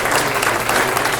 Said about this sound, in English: I think we should rain our blessings upon Patti with our applause and our love